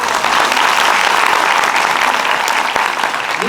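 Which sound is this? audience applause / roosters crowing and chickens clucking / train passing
audience applause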